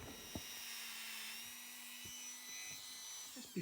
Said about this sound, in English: I'm just going to use a Dremel tool